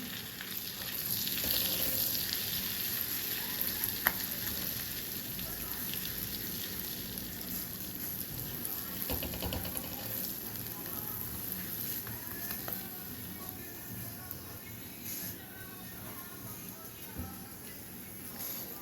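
Fenugreek seeds and dried red chillies sizzle steadily in hot oil in a pan while a cheese paneer stuffed cutlet dish is being prepared, a continuous close crackling fry with small spits, and a voice speaks over it.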